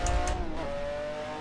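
McLaren F1 GTR race car engine in a sim racing game, a steady high-revving engine tone that climbs slightly in pitch under hard throttle, with brief squeal bursts near the start.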